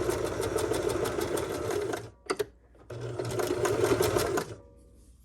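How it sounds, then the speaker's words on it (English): A sewing machine stitches bias tape right in its fold, running in a fast, steady, close-up chatter, pausing with a couple of soft clicks, then running again before stopping. "So right in that fold is where I'm stitching."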